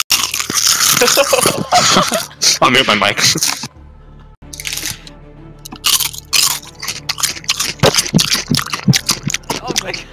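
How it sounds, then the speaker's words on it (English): Potato chips crunched loudly close to the microphone during a PUBG match, with repeated sharp bites and chewing breaking through frequent conversation among players. "I'm gonna start eating some chips."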